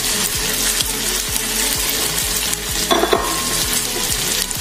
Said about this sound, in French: Là, maintenant, je vais ajouter le poireau. Je vais mettre l'oignon nouveau.